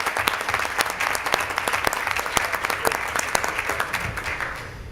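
Audience at a city mayor and council meeting in Roswell, Georgia, applauds a cookoff group with dense, sustained clapping from many hands that tapers off slightly toward the end.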